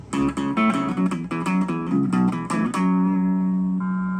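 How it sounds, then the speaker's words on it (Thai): Electric guitar played through the chorus/flanger effect of a Korg AX3000G multi-effects unit, a string of plucked notes and chords with a sweeping, swirling shimmer, ending on a sustained ringing chord, close and clear with no talk. "อันนี้เป็นคอรัสแฟงเจอร์"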